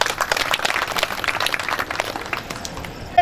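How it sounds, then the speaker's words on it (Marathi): Audience applause, a dense wash of many hands clapping together at a steady moderate level that thins out toward the end. "बिलकुल टाळ्या."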